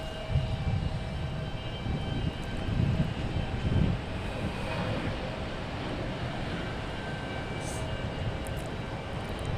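A JetBlue airliner takes off from runway 22 right at Logan Airport, its jet engines a broad, sustained roar heard from a distance that swells and fades gently across the stretch.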